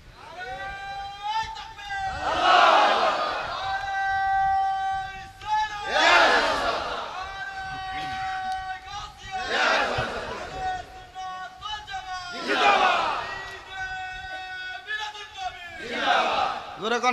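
A large crowd at a Milad-un-Nabi religious gathering chants takbir in loud, rhythmic surges, about five swelling shouts spaced a few seconds apart, with voices sustaining between bursts.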